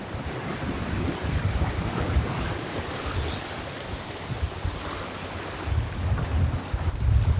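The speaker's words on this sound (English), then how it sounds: "more wind too is out here, so we're not being thrown around by the waves" A sailboat running wing-on-wing in strong wind, with steady wind buffeting the microphone and ocean waves sloshing and rushing around the hull, continuous and fairly close.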